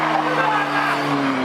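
A car at a rain-or-shine dock car meet in Hull does a burnout: a loud, continuous engine roar and tyre squeal close by, with voices from the crowd mixed in.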